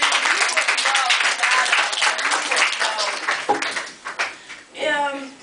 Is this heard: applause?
yes